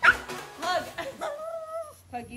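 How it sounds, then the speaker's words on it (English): Frightened dog during nail clipping, yelping and whining in short bursts followed by a drawn-out high whimper, close and fairly faint, with brief pauses between sounds. "This dog doesn't like its nails being clipped."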